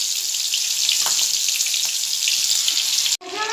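Kalu pieces frying in hot oil over low heat, a steady dense sizzle running close and loud, cut off by a brief pause near the end before the bubbling resumes.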